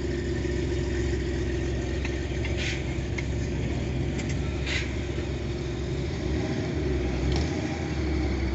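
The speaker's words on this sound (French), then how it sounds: "Vous voyez, toujours des voitures qui arrivent." Cars arriving at a French motorcycle rally, a steady engine idle and rumble nearby that continues throughout, with faint brief clicks and rattles over it.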